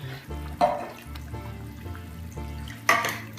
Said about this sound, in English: And we'll add a little bit of water too